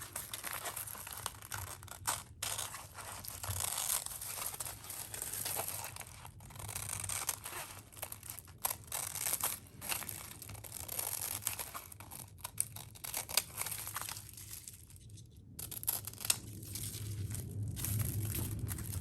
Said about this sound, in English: what I'm gonna do is I'm gonna cut this off on the sides